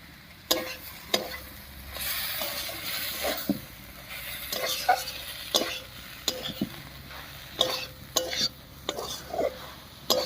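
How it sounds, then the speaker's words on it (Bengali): Pumpkin greens being stirred with spices in a pan: a soft sizzle runs underneath while a utensil scrapes and knocks against the pan in irregular bursts, close by, with a brief murmur of voice. "মশলা দিয়ে খুব ভালো করে মিশিয়ে নিয়েছি"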